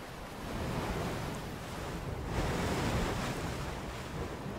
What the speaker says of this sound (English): It's the waves crashing against the rocks.